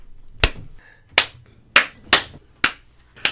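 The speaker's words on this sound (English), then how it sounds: "The weakest fucking clap I've ever heard." Weak, thin hand claps sound six times at uneven intervals, each a sharp isolated smack over a quiet background with no voices.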